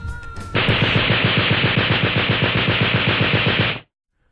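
Rapid automatic machine gun burst of roughly three seconds, a steady rattle of evenly spaced shots, loud and close, ending abruptly.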